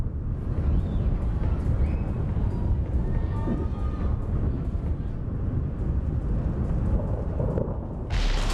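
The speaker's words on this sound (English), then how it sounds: "Ooh. A lightning strike. And everything's on fire." Heavy rumbling thunder from a lightning strike in an emergency-response video game rolls on continuously and loudly for several seconds, then cuts off sharply near the end.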